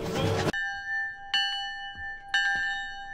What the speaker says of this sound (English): About this bell?